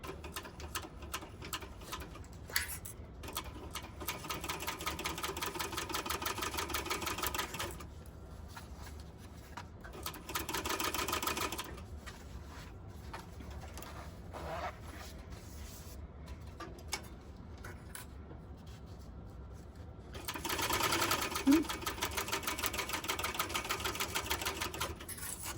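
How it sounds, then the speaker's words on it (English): Domestic sewing machine stitching a 1/8 to 1/4 inch seam on a fabric pouch, running in steady bursts with brief pauses for back stitching at the start and end, close and alone without talk. "We are going to sew this on with an 1/8 of an or a 1/4 of an inch seam allowance."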